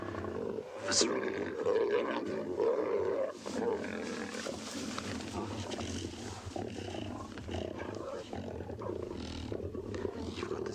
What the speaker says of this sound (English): visceral raw, growling, horrible kind of spine-chilling sound mixed with these cute little lion cub contact calls